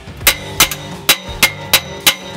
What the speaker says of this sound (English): I'm going to take a hammer and try to basically hammer this exhaust in.